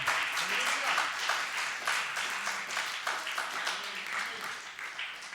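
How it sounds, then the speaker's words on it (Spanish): A church congregation applauds in a dense, continuous wash of clapping while voices shout and talk over it, loud and steady across the whole stretch. "denle un aplauso al Señor"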